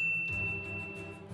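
A single bright notification bell chime rings out clearly, a clean ding whose tone fades over about a second.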